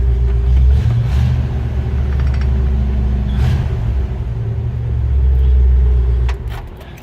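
A 1954 Buick Special Hardtop engine rumbles steadily at idle, a low, even drone that stays loud and close, with no voices.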